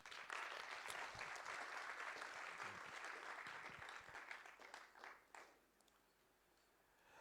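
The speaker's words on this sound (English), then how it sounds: "Please give her a round of applause." An audience claps in a broad wash of applause at the 2019 Botswana presidential debate, steady at first, then thinning and fading out over the last couple of seconds.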